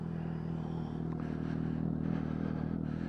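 A Suzuki GSX-S750 motorcycle engine hums steadily under a canopy, a close continuous low drone with slight swells in revving and no talk.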